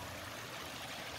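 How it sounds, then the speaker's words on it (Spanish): Spring water flows through a channel being diverted for crop irrigation at Laguna de Sánchez, a soft continuous stream murmur heard faintly and alone. "Aquí anda una persona precisamente desviando ahí el agua para riego"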